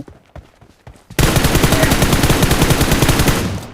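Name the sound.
M4 rifle gunfire in PUBG Mobile video game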